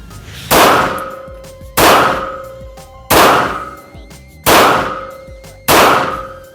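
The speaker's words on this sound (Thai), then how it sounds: "โอเคกระสุนแล้วยิงเลย" A Glock 17 Gen 5 9mm pistol fires five sharp, loud shots at a steady pace about 1.3 seconds apart, each with a short ringing metallic tail, at an outdoor range with no talking.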